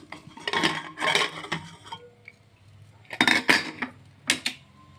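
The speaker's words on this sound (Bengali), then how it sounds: "প্রেশার কুকারটা খুলে দেখি কি অবস্থা" Pots and utensils clattering as a pressure cooker holding boiled duck eggs is opened, with bursts of metallic clanks and clinks separated by quieter pauses, close and fairly loud.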